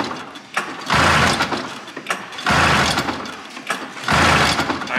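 A vintage snowmobile engine with leaned-out carburetors is pull-started three times. Each loud rasping, ratcheting pull lasts about a second, and the engine does not catch.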